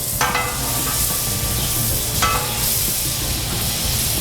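Butter sizzling on a hot Blackstone flat-top griddle beside resting rib eye steaks, a loud continuous frying hiss with occasional stirring scrapes, no talking.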